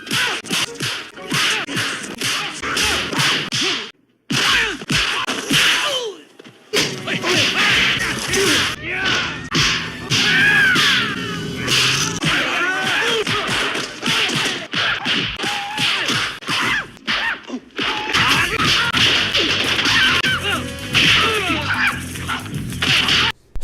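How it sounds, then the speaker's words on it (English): Cheap, exaggerated kick and punch sound effects from the martial arts film Enter the Dragon, sharp whip-like smacks and thuds landing in fast flurries over a busy fight-scene background. "the cheap kick and punch sound effects that are heavily used throughout the movie."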